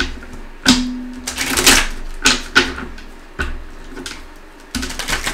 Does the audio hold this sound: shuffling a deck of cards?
yes